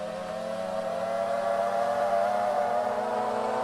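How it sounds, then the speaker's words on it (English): MC-15 Cri-Cri light aircraft engines running up in Microsoft Flight Simulator, a steady droning hum that rises slightly in pitch and loudness, close and continuous with no talk. "let's run them up and let's just listen to the sound of the engine here."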